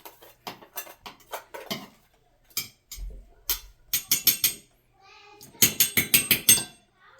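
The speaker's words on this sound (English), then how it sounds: "What we like to do is go ahead and scoop all the leftover food into one bowl with the spoon." Metal spoon scraping and clinking as leftover wet cat food is scooped into one bowl, a series of sharp, close taps and scrapes in quick clusters, with short pauses between them.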